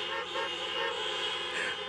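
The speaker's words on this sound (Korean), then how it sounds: "경적으로 빵빵빵빵빵 이렇게 다섯 번 울려주시면 감사하겠습니다" Car horns honked together by a drive-in crowd at a lakeside outdoor music festival at night, forming one steady, loud, sustained blare without clear separate beeps.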